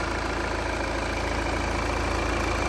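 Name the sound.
Volvo V60 D4 engine idling in showroom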